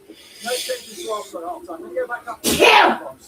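A single sharp, breathy sneeze bursts out loudly near the end, just after a stretch of football commentary, during an Arsenal v Chelsea Carabao Cup semi-final watchalong.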